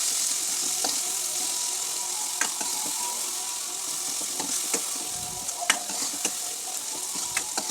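Paste of ground peanuts, garlic, ginger and sambar masala frying in oil for an eggplant curry, with a steady close sizzle and bursts of spoon scraping and clinking against the pan.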